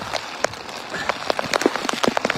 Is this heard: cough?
no